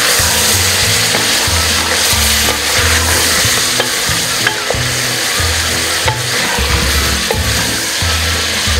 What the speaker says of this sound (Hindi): 2 मिनट इसको मिक्स करूंगी।